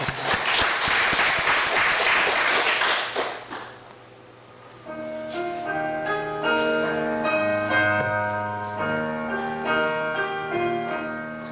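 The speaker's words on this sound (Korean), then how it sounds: "영광의 박수" Church congregation applauding in a short, loud burst of clapping that fades after a few seconds, followed by sustained organ or keyboard chords playing alone.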